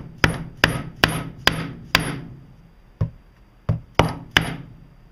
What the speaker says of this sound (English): we want to hammer this level so it seats properly